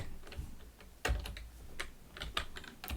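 A computer keyboard clicks with a few quiet, uneven keystrokes, taps clustered close together, alone in a quiet room.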